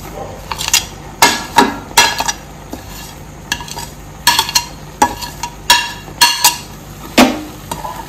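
A spoon scrapes and clatters against a metal pan as semolina is stirred into sticky sugar syrup for rava modak. The sharp, rhythmic knocks come irregularly, loud and close, over a faint sizzle.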